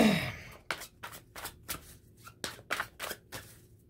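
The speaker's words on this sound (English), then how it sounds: "I'm gonna shuffle a few times" Tarot cards being shuffled by hand in repeated quick riffles, about nine short crisp bursts at a steady rhythm, close and fairly quiet with no talking.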